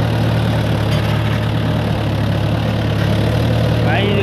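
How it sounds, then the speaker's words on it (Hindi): An overloaded tractor drags a cultivator through a waterlogged field, its wheels slipping, giving a loud, steady, close engine drone with a constant low hum and no clear breaks. "ट्रैक्टर भी ओवरलोड चल रहा, स्लिप मार रहा।"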